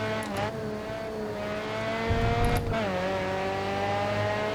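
Race car engine in the Grid Autosport racing game, a loud continuous whine that dips and climbs through gear changes, with a rumbling low burst midway as the car understeers through a turn; no talking.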